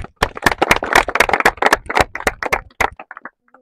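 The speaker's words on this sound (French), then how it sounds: "on essaie d'applaudir d'abord pour nous" A small group claps at the end of a farm project, sharp, uneven, closely spaced hand claps ringing out near and loud for a few seconds before tapering to a few last claps and stopping.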